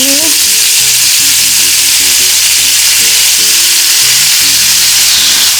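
Chicken wings fry in a pan for honey glazed wings as liquid seasoning goes in, giving a loud, steady sizzle throughout with scattered pops and crackles, no voices.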